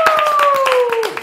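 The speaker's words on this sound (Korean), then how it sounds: "박수!" A small group claps in a broadcast studio for an album announcement, with quick rhythmic claps under a sustained gliding voice-like tone that drops near the end.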